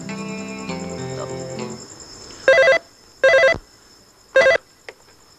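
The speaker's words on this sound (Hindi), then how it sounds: "रुखसाना बाजी का फोन है, आपसे बात करना चाहती है।" A telephone rings three times in evenly spaced, loud electronic bursts, after a stretch of background music fades out.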